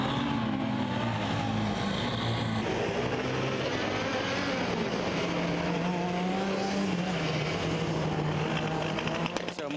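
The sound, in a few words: Formula Student race car restarting on track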